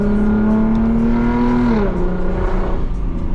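A Lexus IS250 with a straight-piped exhaust and no resonator or muffler accelerates, its loud raspy drone climbing steadily before a brief dip as it shifts, then pulling on close up.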